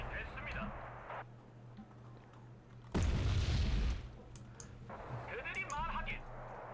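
A single heavy, booming artillery-strike explosion in the Wargame: Red Dragon Second Korean War campaign bursts out and rolls for about a second. Quieter game sounds and talk are heard before and after it.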